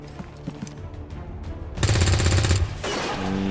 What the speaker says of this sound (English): Open fire on the big one.